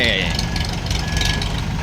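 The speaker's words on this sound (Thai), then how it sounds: "ให้รถไถทำงานหน่อยครับ" A tractor engine working at a pond, a loud, close, steady mechanical drone with a faint knock and a thin high whine, with a voice talking over it.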